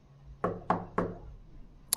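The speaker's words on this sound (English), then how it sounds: "Somebody's at the door, guys." Three sharp knocks on a door at an even pace, fairly close and loud against a quiet room, followed by a brief bright clatter at the end.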